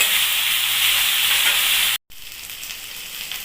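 Ivy gourd (kundri) sizzles loudly as it is stirred in a hot pan in a village kitchen: a steady bright frying hiss, briefly cut off, then resuming more quietly.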